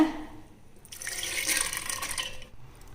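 Water is poured into a kitchen mixer jar together with soaked urad dal and fenugreek, a soft, brief splashing pour that swells and fades over about a second and a half.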